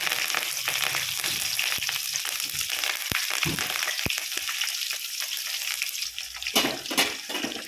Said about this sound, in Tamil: இப்போ கட் பண்ணி வச்சா வெங்காயம் சேர்த்துக்கலாம் இப்போ அது கூடவே கருவேப்பிலை சேர்த்துக்கலாம்